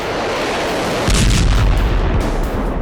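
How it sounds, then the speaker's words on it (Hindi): Nirbhay cruise missile launch: a steady roaring rush that surges into a louder, deeper blast partway through and then keeps thundering, loud and close. "नाम है निर्भय क्रूज मिसाइल।"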